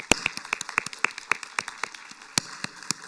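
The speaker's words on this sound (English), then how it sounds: "please, everyone, let's give everyone a round of applause at this time." Sparse clapping from a small audience at a county spelling bee, distinct individual claps at an uneven rhythm rather than a full ovation, fairly close and clear.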